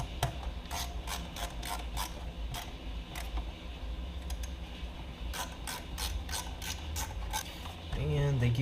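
A ratchet drives the radio mounting screws during a screen install in a 2007 Jeep, giving rapid, quiet clicking in repeated bursts with short pauses, ending in a brief low rumble.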